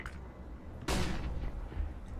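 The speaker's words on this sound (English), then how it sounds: "Throwing flashbang." A flashbang grenade detonates in Counter-Strike: Global Offensive, a sudden loud burst that cuts in partway through and rings on with a bright hissing tail over low game ambience.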